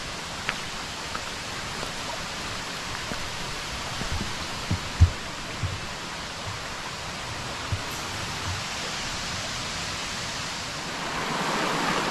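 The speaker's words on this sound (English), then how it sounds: "So here's the creek." Creek beside the 1886 Mingus Mill in the Great Smoky Mountains, water rushing steadily as a broad, even wash of noise with a few faint knocks.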